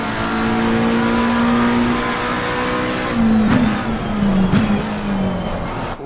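A GT3 race car engine in Assetto Corsa Competizione holds a loud, steady high rev, then drops pitch with a couple of abrupt downshift blips and revs climbing again, close and continuous.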